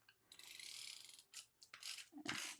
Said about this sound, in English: let me grab my Gina K tape runner